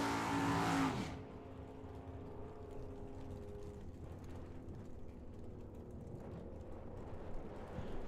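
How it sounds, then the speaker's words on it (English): Drag racing cars, a 1970 El Camino and a 1970 Camaro, roar loudly at the start and then drop to a steady, distant engine drone on the strip. "Cody Robinson in that 70 Camaro gonna take that."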